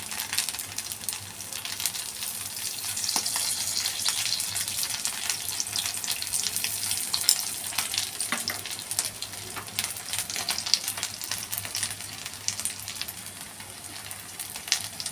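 Paniyaram batter frying in oil in a paniyaram pan, a steady close crackling sizzle that runs unbroken throughout with no talk over it.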